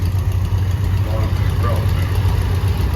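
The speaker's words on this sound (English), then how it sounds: "This had a Waukesha engine in these." Case tractor with a Waukesha engine idling at an outdoor threshing show, a steady low, rumbling engine drone close by that continues evenly throughout, with voices faintly mixed in.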